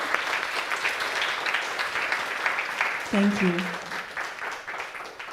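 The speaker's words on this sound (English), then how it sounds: "We can give them all a round of applause" Audience applause following conference presentations, a steady broadband patter of many hands that fills the clip, with a brief spoken thank-you partway through over the clapping.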